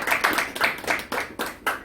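A small group claps together at a civic association's annual general meeting to approve the budget, a short burst of about seven loud, close, evenly spaced claps.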